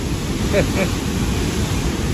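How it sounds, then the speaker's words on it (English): Rushing water at a dam, a loud and continuous broadband roar of splashing and churning, filling the whole recording, with faint brief voice-like sounds barely rising above it. "I don't even know if you can hear me over the water. You can see it splashing up the sides like waves on the ocean"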